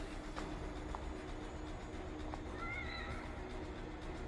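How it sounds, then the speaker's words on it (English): A cat meows faintly in the horror video game The Evil Within, one brief rising call over a steady low rumbling background drone, with a couple of small clicks before it. "Yes, a good cat."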